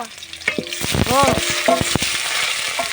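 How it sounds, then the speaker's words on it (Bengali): Potatoes, onion and green chili frying in a wok, stirred with scraping, clanking strokes over a constant close sizzle, with a faint voice briefly in the background. "আলু দিয়ে নাড়বো।"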